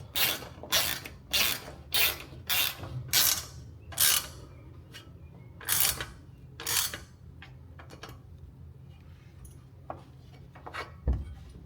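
A ratchet tightens the roof rack mount bolts on a Ford Excursion, with a run of rhythmic, close rasping clicks in short bursts, then sparser single clicks and a final knock.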